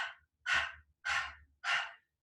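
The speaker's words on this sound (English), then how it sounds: "So if you pant with your mouth open" Three quick, forceful open-mouth breath-of-fire pants in a kundalini yoga practice, each a loud breathy rush close to the mic, evenly spaced like a panting dog.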